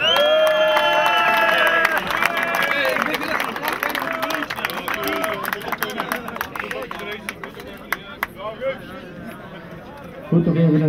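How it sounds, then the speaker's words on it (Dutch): Audience applause at a prize ceremony for the Belgian Homeless Cup 2012, a steady wash of clapping under an announcer speaking over a PA, with music and cheering mixed in. "Een daverend applaus voor Lierse."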